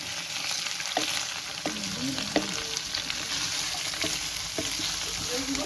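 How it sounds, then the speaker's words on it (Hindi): Bottle gourd (lauki) frying with spices in a pan for a Wazwan-style dish, a steady sizzle with periodic clanks and scrapes of a spoon stirring through it. "इसको भी हम फ्राई कर लेंगे लौकी को बाकी चीज़ों के साथ"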